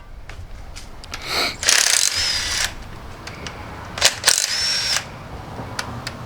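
A power tool, likely an impact gun or drill, bursts in two loud whirring runs while unbolting parts from the front of an LS engine near the oil pump, with clicks and clatter between bursts.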